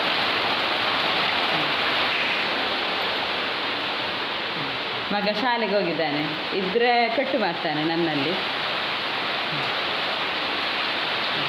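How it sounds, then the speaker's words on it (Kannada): A loud, steady roar of heavy rain fills the whole stretch, with someone speaking briefly partway through. "ಎಷ್ಟು ಜೋರು ಮಳೆ ಬರ್ತಾ ಉಂಟು"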